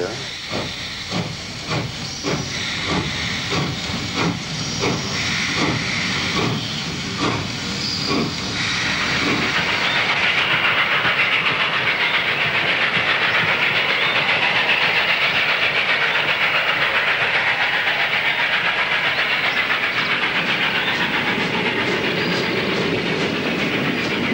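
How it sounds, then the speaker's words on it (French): An SNCF steam locomotive, the last one still in service, chuffs in rapid rhythmic beats before giving way to a loud, steady roaring hiss of steam that fills the rest of the stretch. "Je suis mécanicien à la SNCF et titulaire de la dernière machine à vapeur encore en service"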